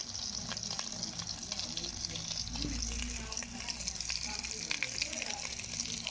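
Pork cracklings frying in hot oil in a pot give off a steady, dense, close sizzle and crackle that runs unbroken for the whole stretch, with a faint low rumble beneath.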